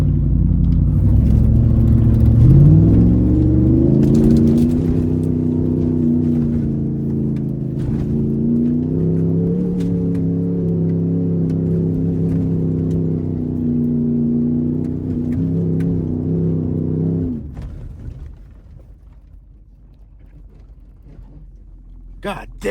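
Third-generation Ram pickup truck crawling along a rough off-road trail, its engine a loud close droning rumble that rises and falls with revs before dropping to a quieter idle near the end, with voices at times over it.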